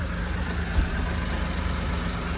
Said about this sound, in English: The engine is under the seat, but it's pretty quiet as you guys can see.